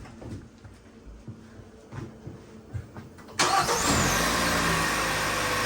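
A 2017 Hyundai Santa Fe with the 2.0 turbo engine and a newly replaced starter cranks briefly, then fires and settles into a steady idle, heard close up after a few seconds of quiet shuffling.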